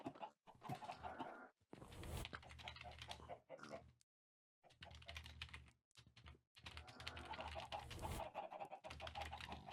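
A chicken in a soul cage in Minecraft 1.8.9 gives short clucks and squawks in quick, uneven bursts broken by brief silences, close and fairly loud, alongside clicky keyboard-like tapping.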